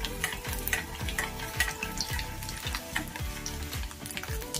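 Chana dal and urad dal fry in hot oil for lemon rice, a close, steady sizzle with crackling pops and the scrape of a spoon stirring the pan at a regular rhythm.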